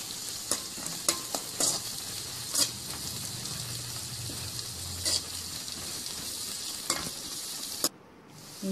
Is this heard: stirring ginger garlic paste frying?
yes